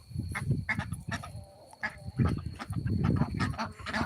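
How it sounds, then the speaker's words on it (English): Ancona ducks in a yard give a rapid string of close, loud quacks in uneven bursts, with brief pauses and no talk. "And these are our Akana ducks and our largest duck on our yard, Elazar."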